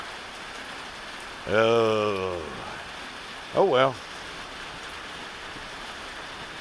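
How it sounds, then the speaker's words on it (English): Steady rain falls on a bayou in Baldwin County, a continuous even patter and hiss throughout, with someone briefly speaking twice over it. "It's raining down here on the bayou."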